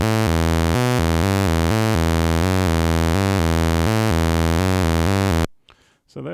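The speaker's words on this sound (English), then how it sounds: "That's just the buzzer again." Atari ST sound chip buzzer waveform drones as a loud, harmonically rich sustained tone that steps through rapid repeating pitch changes, then cuts off abruptly into brief talking.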